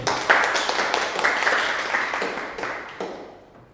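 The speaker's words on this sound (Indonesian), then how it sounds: "tepuk tangan untuk Bapak Ibu" Applause from participants in a microteaching training session: a steady, dense patter of many hands clapping that gradually thins and fades toward the end.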